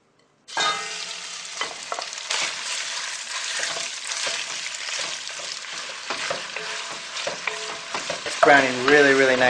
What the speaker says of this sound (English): I'll add the oil, and then we're going to start browning this beef